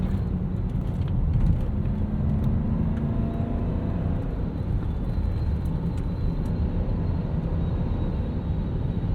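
A deep, steady engine rumble holds constant throughout, a 1996 BMW 735i with five-speed manual, throaty engine running at sustained revs around 3,500 to 4,000 RPM without any voices.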